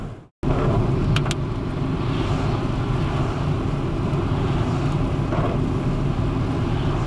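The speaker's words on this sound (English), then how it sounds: "Quite a bit of traffic for a Sunday, really." Steady wet road traffic on a rainy day, a continuous broad hiss and rumble of tyres on soaked tarmac in North Wales, loud and close, after a brief dip at the start.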